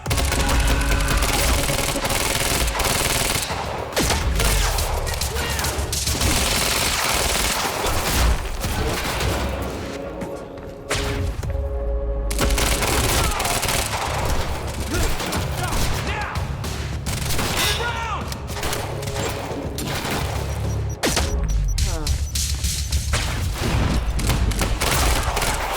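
Sustained gunfire in the video game Quantum Break, dense bursts of shots and booms rattling almost nonstop with brief lulls, loud and close, with shouted voices now and then.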